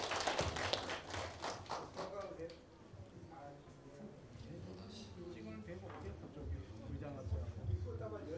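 Audience applause breaks out at the awards ceremony of a national Korean folk song (minyo) contest's year-end finals. A burst of clapping fills the first couple of seconds, then fades under ongoing talk and room murmur.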